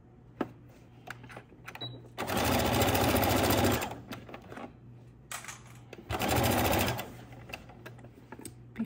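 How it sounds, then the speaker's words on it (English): A sewing machine stitches a lining closed in two loud, sustained runs of rapid whirring, separated by quieter pauses with light clicks and handling of the fabric. "So we're just gonna stitch down and close it on up."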